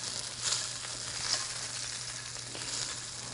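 Steak fries in a pan while being basted with an oily butter mix, a steady bright sizzle that swells in short bursts as the hot fat is spooned over.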